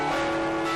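Church bells ring continuously at a bell-ringing festival in Tatarstan, a sustained, resonant metallic tone with layered overtones filling the whole short moment at moderate loudness.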